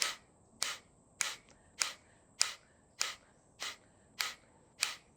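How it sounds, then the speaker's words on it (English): Kapalabhati yoga breathing, a run of forced exhalations, comes as nine sharp, evenly spaced puffs of breath about every 0.6 seconds, close and crisp, with no talking between them. "So Kapalabhati is natural inhales with forced exhalations"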